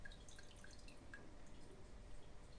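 Small drops of melted beeswax fall in a quick irregular series, each a soft high plink over a low steady background hum.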